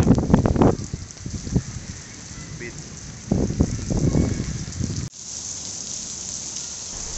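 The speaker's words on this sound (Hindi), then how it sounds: "थोड़ी देर बाद ही बहुत तेज बारिश आने लग गई भाई" Heavy rain with big drops pours down in Bharatpur amid strong wind, a steady hiss under bursts of nearby voices, ending in a constant wash of rainfall.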